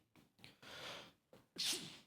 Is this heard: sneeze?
yes